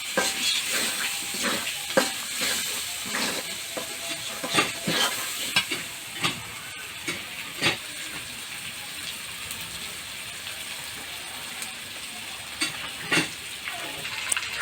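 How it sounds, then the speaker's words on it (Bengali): Garlic cloves frying in a pan for a goat meat curry, a steady sizzle with regular scraping stirs and light knocks of the spatula, close and clear with no voices. "রসুনের যে রসুন থাকে সেগুলো কোয়া করে এখানে দেয়া হচ্ছে, এগুলো নেড়ে নেওয়া হচ্ছে"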